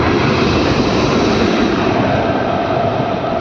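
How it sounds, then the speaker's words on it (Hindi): A train engine races through Azamgarh station at speed, a loud, steady broadband rumble and roar that holds near and constant throughout, with no talk over it. "देखिए दोस्तों ट्रेन इंजन केवल आ रहा है, अभी कितना तेजी में जा रहा है"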